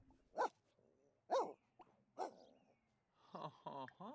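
A sick dog in The Sims 4 barks three times in short separate yelps, then gives a quicker cluster of whimpering yips, fairly close and clear, with no one talking.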